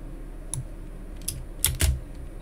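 A few computer keyboard key presses, including shift and spacebar, sound as sharp, close clicks: a single tap, then another, then a quick pair near the end, with no talking.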